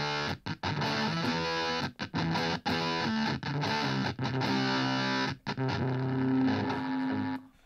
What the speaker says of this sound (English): So that was with the distortion quite high up